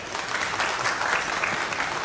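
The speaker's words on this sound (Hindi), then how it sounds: "इसके लिए खालिद भाई के लिए ताली बजाई जाए जोरदार" An audience at a Mumbai Congress political event gives a burst of steady clapping, a dense close round of applause lasting a couple of seconds.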